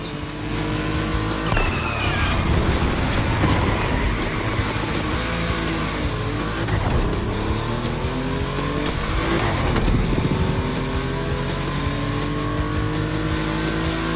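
Cars, including a Porsche 911, race around a gymkhana track with engines revving and rising through gears, tyres squealing through turns, loud and continuous as they pass close by.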